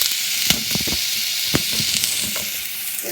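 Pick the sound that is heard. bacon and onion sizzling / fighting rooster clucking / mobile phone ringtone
bacon and onion sizzling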